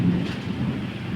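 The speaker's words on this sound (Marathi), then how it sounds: "यायलंय पाऊस." Rain falls with thunder in a steady, dense wash of noise and a low rumbling undertone, heard briefly with no speech.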